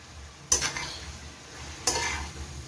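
Vegetables and shredded cabbage being stir-fried for chicken fried rice: two sharp bursts of sizzling and scraping as the pan is stirred, over a low steady background hum.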